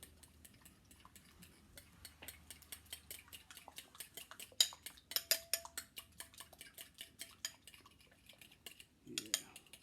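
A utensil mixes a pork belly taco marinade of soy sauce in a bowl, making rapid rhythmic clinking and tapping against the dish, close and fairly quiet, with a brief low voice near the end.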